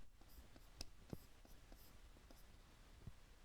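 A pen scratches and taps on paper during a math lecture on LU decomposition, soft and close with scattered strokes, over a faint room hiss and no voices.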